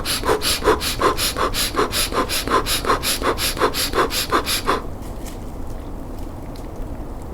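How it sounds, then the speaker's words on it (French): Rapid, shallow rhythmic breathing exercise: about a dozen and a half quick, even huffs of air in steady succession, close and loud, stopping abruptly and leaving quiet room tone. "appelée la respiration flash ou la respiration superficielle"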